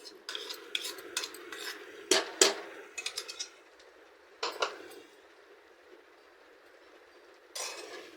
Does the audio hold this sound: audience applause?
no